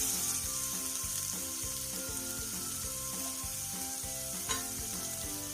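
Chopped capsicum frying with softened onions in a pan makes a steady sizzle, overlaid by a regular pulsing background hum and a single brief clack near the end.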